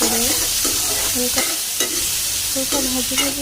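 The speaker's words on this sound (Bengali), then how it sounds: "কড়াইতে আম কটা তেলের ভিতরে দিয়ে হালকা ভাজি ভাজি" Mango pieces frying in mustard oil in a wok, with a constant close sizzle and repeated squeaking scrapes as a spatula stirs them in a quick, uneven rhythm.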